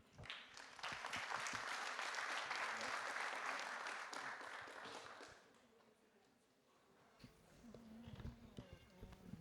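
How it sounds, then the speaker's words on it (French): Audience applause at a hydrogen industry conference, a sustained burst of clapping for about five seconds that fades out, followed by quieter room sounds and a few stray claps. "vous pouvez l'applaudir"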